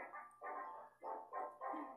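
The Greater Dog in Undertale barks in a quick series of about five short, soft, synthesized woofs, evenly paced and alone over a quiet background.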